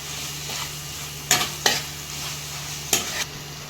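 A spoon scrapes and stirs coriander into a sizzling prawn biryani masala in a pan, a few distinct close scraping strokes over a steady low frying hiss.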